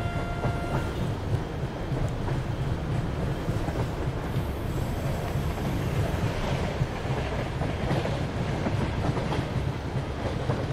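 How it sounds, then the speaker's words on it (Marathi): A Churchgate fast local train rolls past in an Indian train simulator game, making a continuous loud rumble and rushing roar with no break for about eleven seconds. "लेफ्ट हैंड साइड से लोकल ट्रेन जो है वो आगे बढ़ती हुई"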